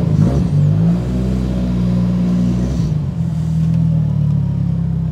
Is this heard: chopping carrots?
no